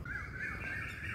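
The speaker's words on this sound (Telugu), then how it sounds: "ఈ పక్షుల రాగాలు వినడం కోసమైనా వాకింగ్కి రావాలనిపిస్తుందండి" Birds calling at dawn along a morning walking route, a crow-like bird repeating a short, clear call several times in quick succession over a soft background hum.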